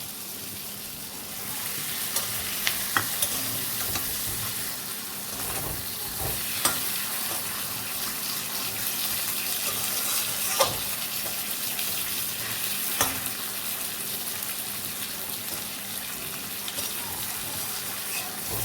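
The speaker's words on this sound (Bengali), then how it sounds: "এবার মাছ দুটোকে আমি এর মধ্যে একটু নাড়াচাড়া করে নেব" Tilapia fish and masala sizzle steadily in a hot pan while a spoon stirs, with scattered clinks and scrapes against the pan.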